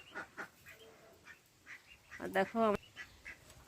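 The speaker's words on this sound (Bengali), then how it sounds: "হাঁস প্যাক প্যাক করছে প্যাক প্যাক কিছু কত সুন্দর ডাকছে" Ducks on a rural homestead give a few short, nasal quacks, one brief burst standing out near the end. Scattered talk runs around and under the calls.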